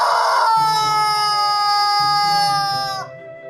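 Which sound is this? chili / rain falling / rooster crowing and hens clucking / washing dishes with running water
rooster crowing and hens clucking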